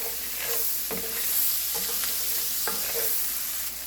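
Garlic cooks in a pan for a creamy risotto, sizzling softly while a utensil stirs and scrapes in a few irregular strokes, close and moderately loud.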